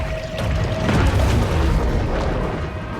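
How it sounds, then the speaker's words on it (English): A torpedo explosion in the shark game Maneater: a deep, sustained underwater boom that rolls on for about three seconds, loud and close, with no talking. "Getting y'all out with a torpedo"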